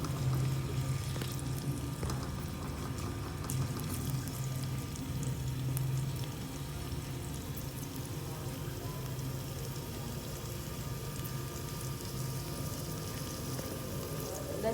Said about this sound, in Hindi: अब इसे मैं हल्का सा फ्राई करूँगी।